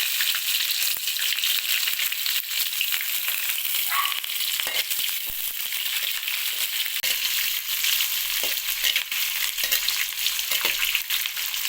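Onions sizzle loudly in oil in a pan while upma is being cooked, a dense continuous hiss and crackle close up with a few faint stirring scrapes.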